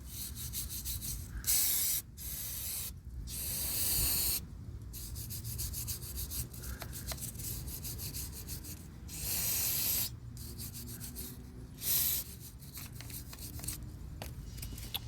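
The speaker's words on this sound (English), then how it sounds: "I'm not going to make the entire video of me scrubbing down the differential" A car differential is scrubbed down during brake and suspension work, with faint, rough brushing strokes in irregular bursts and short pauses, and no talking.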